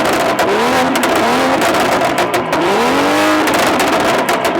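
A BMW F30 335i engine with a tune revs loudly and repeatedly, pitch climbing and falling in a series of sharp throttle blips, close by.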